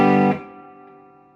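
Electric guitar played straight into the amp with the whole pedal board bypassed, giving a single clean strummed chord that cuts off quickly and leaves a faint tail ringing down.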